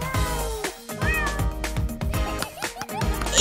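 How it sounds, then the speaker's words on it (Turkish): A new kitten meows repeatedly in short, bright cries, some rising and bending, over a busy background of music-like sound, fairly loud and close. "İlk kedicin."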